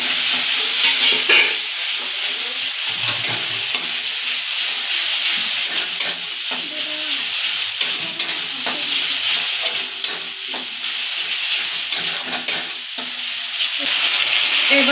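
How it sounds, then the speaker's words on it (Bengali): Ginger, garlic and chili paste sautéed in a pan for doi katla, a steady close sizzle and hiss with scraping stir strokes running throughout, no voices. "ভালো করে একটু কষিয়ে নেব।"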